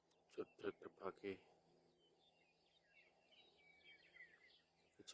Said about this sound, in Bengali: কিচিরমিচির শব্দ